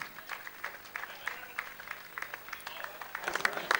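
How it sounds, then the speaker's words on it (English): A crowd at a Gaelic football county final event applauds a former club player, scattered uneven claps rising and falling in bursts, with a voice talking faintly underneath. "Give Josie a nice round of applause."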